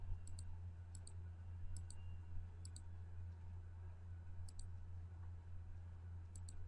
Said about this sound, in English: click some more